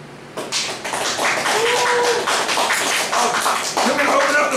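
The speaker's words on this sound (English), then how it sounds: "Everybody give Malcolm a big hand of applause!" An audience at an open mic night gives dense, sustained applause after a song, with many hands clapping close by and some voices mixed in.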